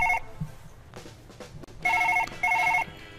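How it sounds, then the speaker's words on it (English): An in-game telephone rings in Surgeon Simulator 2013, a close electronic bell in short trilling bursts, with two clear rings near the end after some scattered clatter. "Shut up, phone."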